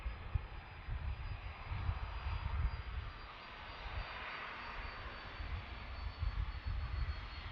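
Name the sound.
UPS cargo jet aircraft at Boeing Field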